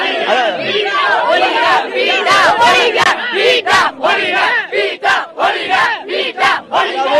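A large crowd of young Jallikattu supporters at a protest on the Tamukkam Grounds in Madurai shouts and cheers loudly in rhythmic bursts, the chanting voices close and continuous.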